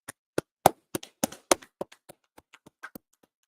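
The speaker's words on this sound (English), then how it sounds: "Let's clap it up. Let's clap it up." Hands clap in a sharp, fairly regular beat, about a dozen and a half crisp claps close by that grow softer and sparser toward the end.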